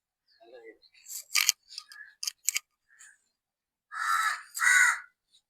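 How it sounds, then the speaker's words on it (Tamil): In a home vegetable garden, a crow gives two loud, harsh caws in quick succession, heard clearly after a run of sharp snipping and clicking sounds nearby. "காக்கா கத்துது"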